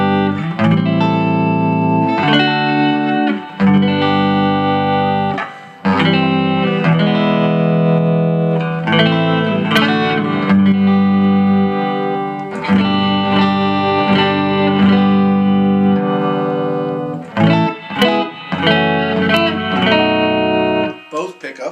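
Les Paul style electric guitar on its first pickup, played through an amp with reverb, ringing out sustained chords and notes with a full, slightly distorted tone and brief pauses between phrases.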